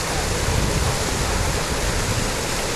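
Broad Creek, a geothermal stream with warm bubbling springs and a hot pot feeding the river, rushes in a loud, steady broadband wash of flowing water that never lets up.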